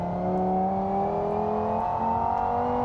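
A Xtreme V10 rally car engine in BeamNG, taken from the Scintilla, drones at a high, steady pitch that climbs slowly as it revs, a continuous loud whine with no voices.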